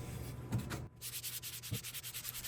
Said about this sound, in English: Just take the 220 and sand lightly with the grain